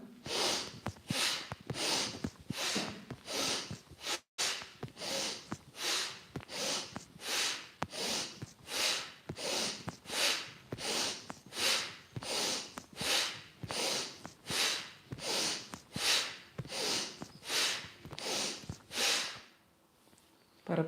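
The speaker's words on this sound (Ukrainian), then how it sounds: "І ще один підхід, бхастрики ми зробимо." Bhastrika pranayama done with arm movements, loud forceful nasal breaths pumping in a steady even rhythm, about one and a half per second, close to the mic and with no talk, ending in a brief pause.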